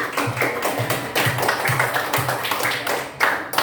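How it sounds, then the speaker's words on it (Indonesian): A small group claps in steady, rhythmic unison, bright close hand slaps repeating quickly for a few seconds. "Tepuk tangan untuk kelompok A."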